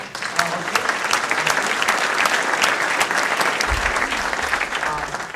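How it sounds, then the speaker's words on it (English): Audience applause fills a City Club luncheon hall, a steady dense wash of many hands clapping at close range, loud and sustained throughout. "Let's give Allison a round of applause."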